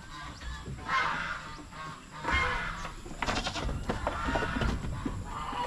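Goats on a small farm bleat in several separate calls, moderately near, rising and falling over a quiet background with faint rustling between them.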